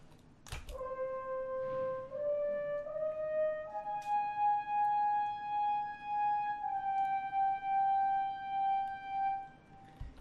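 Sampled French horn line from an orchestral library playing a slow, sustained melody of long held notes that step upward and then settle, loud and smooth, with no talk over it.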